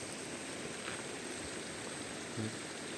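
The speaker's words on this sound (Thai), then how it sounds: "รอให้ฝนหยุดคงไม่หยุดแล้วมั้ง น่าจะตกทั้งวันทั้งคืนมั้งดูทรงอะ" Steady rain falls outdoors at a small rice-terrace homestay in rural Mae Hong Son, Thailand, a soft continuous hiss with no breaks, fairly quiet and unchanging, plus a brief low thump near the end.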